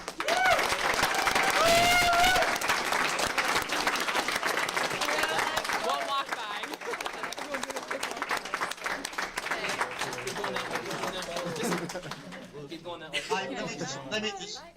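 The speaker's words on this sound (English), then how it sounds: "I'd like to get a round of applause for Mr. Giroux." Audience applause for Henry Giroux after a Q&A event, steady crowd clapping that carries on for over ten seconds, with talk and cheering mixed in before it thins out.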